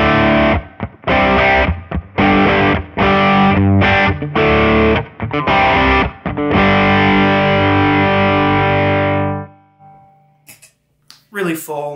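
Electric guitar with a GTO pickup in the bridge position, played with heavy distortion: a run of choppy, muted chord stabs gives way to a long sustained ringing chord that cuts off, followed by a few faint scratchy string noises.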